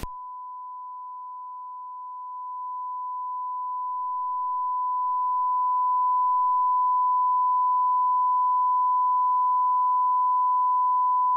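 An Xvive AT-1 portable audio tester puts out a pure, steady sine-wave test tone that holds at one pitch and swells slightly in level, alone and unbroken.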